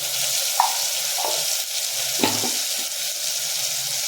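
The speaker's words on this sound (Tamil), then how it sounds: "எல்லாத்தையும் நல்லா வதக்கிக்கலாம்." Steady sizzling and frying from a pan of potatoes, turmeric and spices for chicken curry, with occasional scrapes and stirs of a utensil, close and continuous.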